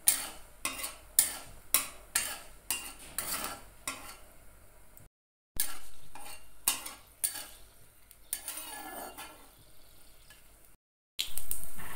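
Black mustard seeds and dried red chillies frying in mustard oil for a bean dish, with repeated sharp spoon-on-pan clinks and stirring over a faint sizzle, broken by two brief silences.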